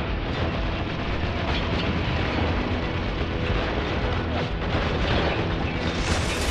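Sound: grenade explosion in the video game Spec Ops: The Line

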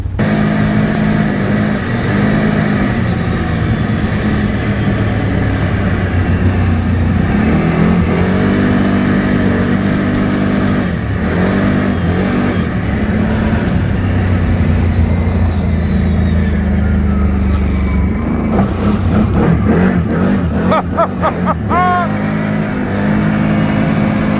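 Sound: Loncin Xwolf 1000 ATV engine revving while riding

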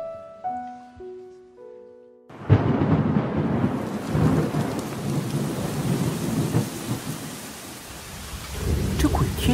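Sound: thunderstorm with sudden rain

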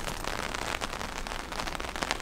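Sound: rain falling on the street in Ragusa

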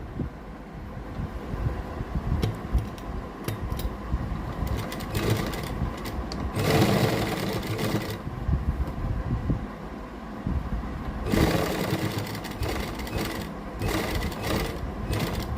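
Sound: sewing machine stitching a garment

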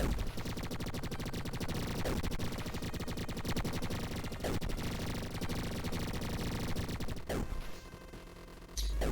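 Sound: gunfire from the video game Mars Commando

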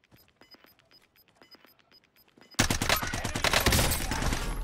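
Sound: gunfire in the video game Call of Duty: Warzone

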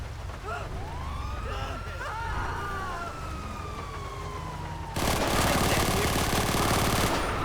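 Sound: gunfire in a shootout in GTA 5 video game

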